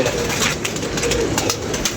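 Paired pigeons cooing and calling during feeding time, a steady murmur of many birds close by with no voices.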